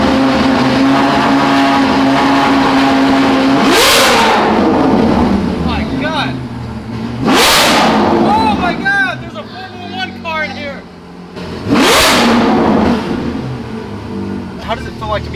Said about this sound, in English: That is by far the loudest and most beautifully sounding exhaust I've ever heard